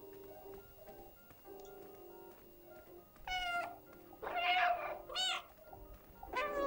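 A cat meows in the video game Stray: several short, bright meows over a quiet, humming game ambience, coming closer together and louder toward the end.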